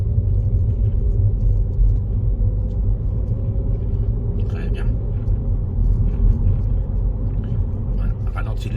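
A car on a driving lesson picks up speed back toward 50 km/h, its engine a steady low rumble with road noise throughout, while an instructor talks in the cabin.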